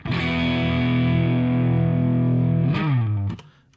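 A single big, distorted guitar strum rings out and sustains for about three seconds, then is cut off sharply with a brief scrape.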